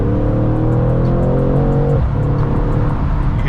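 A 2019 Mercedes C63 S AMG in Sport Plus drones loudly under load from inside the cabin, then shifts gear about two seconds in, the engine note dropping before pulling again.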